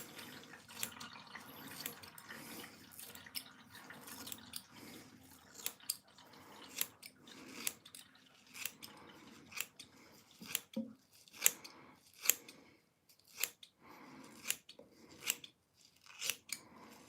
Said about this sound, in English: let's do a bit more clipping